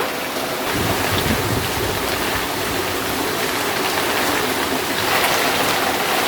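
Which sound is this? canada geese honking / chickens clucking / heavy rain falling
heavy rain falling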